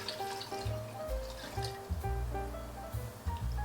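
Beef broth pours into a pan with a gurgling, glugging liquid flow, close and moderately loud, running in uneven bursts for a few seconds with no talking.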